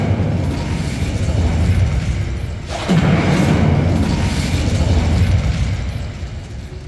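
An Incendio fire spell is cast in Hogwarts Legacy, producing a loud whooshing burst with a deep low rumble that swells partway through and holds over continuous background sound.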